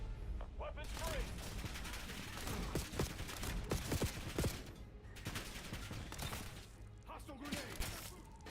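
Gunfire in Call of Duty Black Ops 7: dense, sharp bursts of automatic and single shots crackle throughout, close and loud, mixed with impacts and shattering, while soldiers shout over the firefight.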